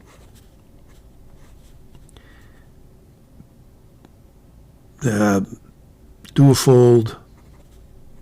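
A fountain pen fitted with a lemon nib, a Duofold-style clone, writing on paper: faint, soft scratching strokes in a quiet room, followed by someone speaking.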